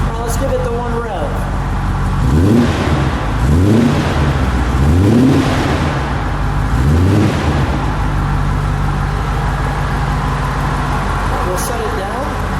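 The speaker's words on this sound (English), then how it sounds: "Now let's give it the one rev." A black 1979 Aston Martin V8 Volante convertible's V8 revs several times in rising, throaty bursts, loud and close, then settles back to a steady idle, with people talking nearby.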